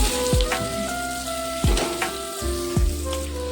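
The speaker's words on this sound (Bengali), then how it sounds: "ভালো করে চামচ আলুটা ভালো করে ভেজে নেব" Small potatoes frying in a pan with a steady oily sizzle, punctuated by a few sharp spoon knocks against the pan at intervals.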